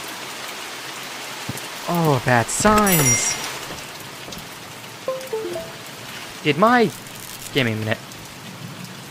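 Steady rain at night in The Mortuary Assistant, a continuous soft hiss running throughout, with someone speaking briefly over it and short tonal game sounds.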